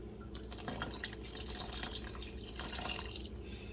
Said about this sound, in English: Now I'm going to add a little more water.